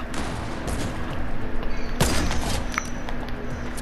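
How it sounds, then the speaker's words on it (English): A sniper rifle shot in a video game, a single sharp, loud blast near the middle over steady, dense game noise, with no voices. "Did you just get sniped?"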